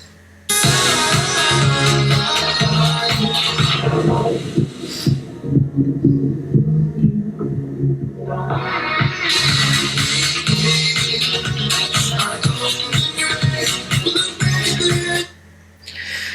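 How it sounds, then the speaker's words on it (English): Music plays loud and full, then turns dull and muffled as if heard underwater, before opening back up to bright, clear sound. "That is the muffled effect in a nutshell."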